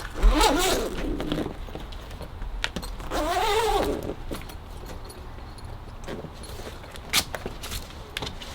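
A zipper on a camper drop-tent shower enclosure runs in a few quick rasping pulls close by, with a short pull, a longer zip in the middle and faint rustling and handling noises between them.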